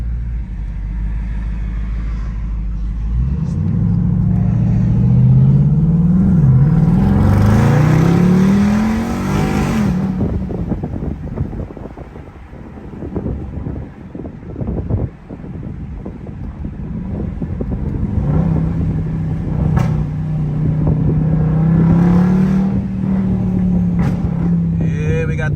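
A 2021 Dodge Durango SRT 392 with a widebody kit and mods, its engine revving hard in loud rising and falling surges, then settling into a rough, lumpy idle, with wind buffeting the microphone.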